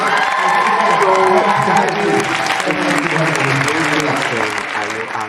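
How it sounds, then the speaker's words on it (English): Live audience applause with cheering at a hypnosis stage show, a dense, steady wash of clapping and crowd voices lasting throughout, loud and close. "Let's give him a great round of applause."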